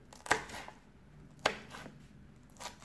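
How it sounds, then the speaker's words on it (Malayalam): Green chillies being sliced lengthwise with a knife on a board, two sharp close chops about a second apart and a softer third cut, with quiet room tone and no speech. "ബാക്കി ഇതിൻ്റെ കൂടെ നീളത്തിൽ അരിഞ്ഞങ്ങോട്ടേക്ക് ഇടും"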